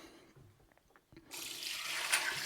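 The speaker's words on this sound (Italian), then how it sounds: "scoliamo l'acqua" Rinse water from a washing machine basket, used for cleaning spent 30-06 rifle cartridge cases, gushes out into a sink, a sudden loud rushing drain after a second of quiet small clinks.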